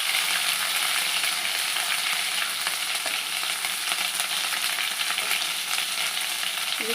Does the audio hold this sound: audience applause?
no